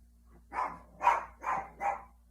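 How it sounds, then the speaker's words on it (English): Dogs bark four times in quick succession, mid-distance and moderately loud, with a faint low hum between barks. "Except these stupid fucking dogs."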